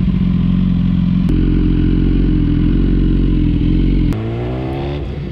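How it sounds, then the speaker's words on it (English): A BMW S1000RR superbike with a 999cc engine and Akrapovic exhaust idles loud and close with a rough, steady burble, then blips the throttle twice in sharp revs, the second rising briefly before settling back. "if you like the sound of this exhaust"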